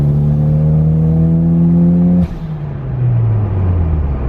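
Toyota MR2 turbo engine pulling hard under raised boost, a loud steady rising drone with strong harmonics that cuts off abruptly partway through, then a lower engine note carries on as the revs drop.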